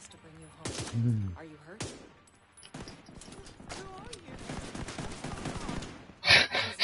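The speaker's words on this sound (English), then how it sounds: "Fire a few warning shots, sir." Several sharp warning gunshots ring out in bursts, mixed with horse hoof clip-clop and people talking.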